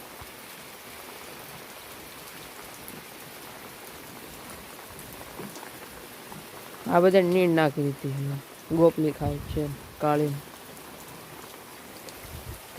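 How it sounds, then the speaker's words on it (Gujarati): Steady rain falls on a farm, a continuous wash of drops with a gusty edge, while someone talks over it in the second half. "પવન સાથે વરસાદ પણ આવે છે"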